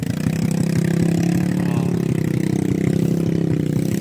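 A hauler motorcycle in Banaybanay, Davao Oriental, with its engine running steadily close by, a continuous throbbing idle and mid-range rumble with slight revving throughout.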